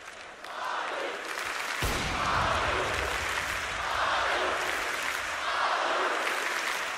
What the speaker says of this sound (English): their crowd is absolutely loving it